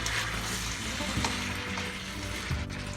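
Sweet and sour sauce hits pork frying in a pan, producing a steady close-up sizzle with bubbling and scraping throughout, and no voices.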